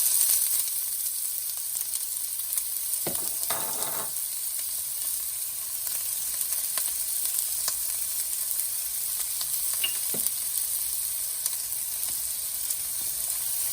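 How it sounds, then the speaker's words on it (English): Chopped onion and garlic sizzle and fry in olive oil in a pan, a steady bright hiss throughout, broken by a few brief scraping stir sounds, with no talking. "we're just going to keep stirring it and frying it until it softens"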